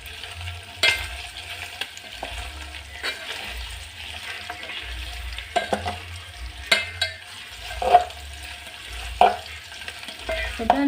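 Meat fries in a scorched sufuria that was first used to boil it, with only a little oil: a steady sizzle runs throughout, broken by repeated scraping stirs and a few clinks of the spoon against the pot.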